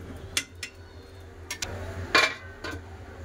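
A lid goes onto a pot of simmering potato and pumpkin curry, producing a handful of sharp metallic clinks and taps spaced apart over a low steady hum, with no talking.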